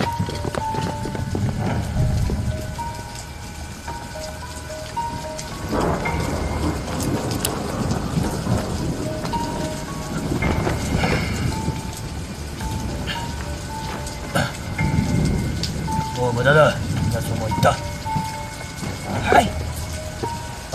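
Heavy rain with rumbling thunder over a roof with a hole in it, a steady low roar of downpour under repeated thunder rolls, with occasional knocks and clatter, close and continuous for about twenty seconds.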